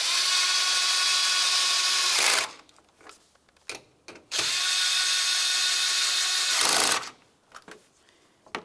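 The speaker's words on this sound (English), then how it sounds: "Now we can move along to reinstalling those 2 8mm headed bolts that hold the lower box to the body of the vehicle." Power tool driving two 8mm bolts that secure the lower box to the body of a 2009-2019 Ford Flex, two long loud whirring bursts separated by pauses with faint clicks.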